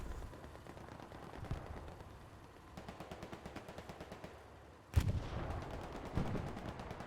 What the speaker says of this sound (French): Rambo qui est en train de réparer le 76 à mesure qu'il prend des dégâts depuis ce canon AT.